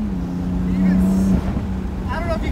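BMW M3 engine with a new chargepipe while driving, a steady engine drone holding a low tone, then easing off, heard close inside the car with a person talking over it.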